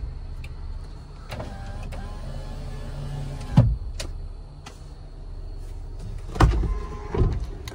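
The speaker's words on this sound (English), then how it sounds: "one touch windows." One-touch power windows on a 2016 Jeep Wrangler Unlimited Sahara: a low electric motor hum running in two stretches inside the cabin, each ending in a sharp thunk as the glass reaches its stop, with light clicks between.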